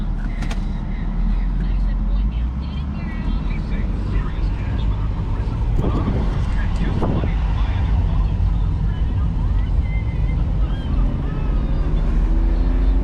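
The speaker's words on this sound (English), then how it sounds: "Listen to that motor." A steady engine hum and road rumble fill the cabin of a moving 1999 BMW 323i, with wind noise and faint voices underneath.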